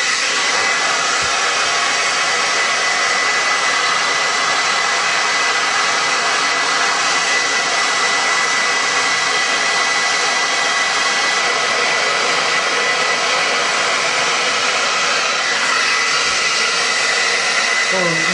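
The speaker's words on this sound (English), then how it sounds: "with this hairdryer, we're going to simulate heat coming out of the vent and heating up the temperature sensor" A hair dryer blows steadily at full power, a loud continuous whooshing roar that stays unchanged throughout.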